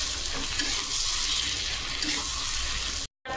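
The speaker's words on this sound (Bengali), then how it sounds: "ভালো করে দুটো কষিয়ে নেব, মশলাটাকে কষিয়ে নিই।" A spice paste of ground ginger, turmeric and salt fries in a pan while being stirred, making a loud, steady sizzle with scraping, close up, that cuts off abruptly near the end; no talking.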